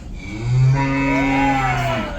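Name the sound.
cow moo sound effect played on a cruise ship quiz game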